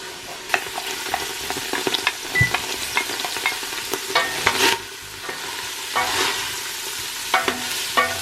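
Two onions fry in avocado oil in a pot, a close, continuous sizzle broken by repeated scraping stirs and clatter, with no voices.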